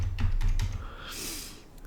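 Fast typing on a computer keyboard, several close, crisp key clicks in a quick burst followed by a softer swipe-like rustle, with no voices.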